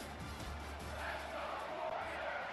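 Stadium crowd in EA College Football 25 roaring steadily for the home Hawaii Rainbow Warriors, a dense, constant wash of cheering with no clear breaks.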